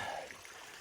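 Steady broadband rush of a mountain stream flowing on a Virginia hiking trail, a continuous close watery hiss with no voices over it.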